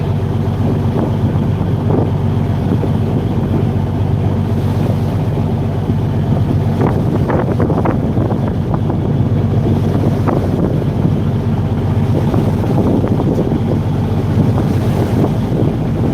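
Fishing boat pushing through monsoon waves in strong wind, with loud, continuous wind buffeting the microphone, engine rumble and repeated water crashes and splashes close by, without talk.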